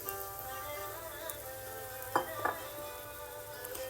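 Onions, garlic and chili sizzle steadily in hot oil while being tempered, with a continuous frying hiss and a couple of brief clinks of a utensil against the pan partway through.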